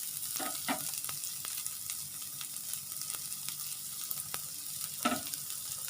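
Rice fries in a pan with a soft, even sizzle, broken by occasional scrapes and knocks of stirring, with no talk.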